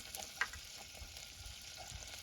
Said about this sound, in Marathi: छान आपलं तेल तापलंय यामध्ये एक चमचावर जिरा ऍड केलेत मी